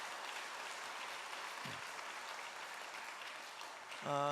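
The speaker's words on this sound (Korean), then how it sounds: "자 박수하고 하겠습니다" A church congregation applauds during a Sunday service, a faint, even patter of clapping across the room that ends in a brief tonal sound.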